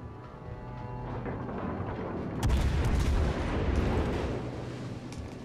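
A battleship fires artillery broadsides in World of Warships: Legends, a Scharnhorst PvP match. A dense, rumbling barrage of gunfire booms, heaviest in the middle, over continuous low battle noise.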